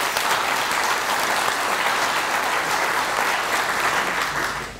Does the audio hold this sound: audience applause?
yes